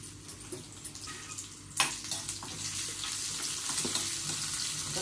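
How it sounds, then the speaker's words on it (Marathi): Garlic rice sizzles and fries in a pan over a high gas flame, a continuous close crackle with a sharper clatter of stirring partway through and no talking. "जरा असं गॅस मोठा करायचा हा, चांगलं भाजून घ्यायचं."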